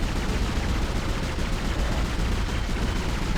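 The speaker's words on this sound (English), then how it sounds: "You get a military grade rifle that shoots multiple bullets per burst." A military-grade rifle in Dead Space fires rapid bursts of bullets, a dense, loud, continuous crackle of gunfire with no pauses and no voices.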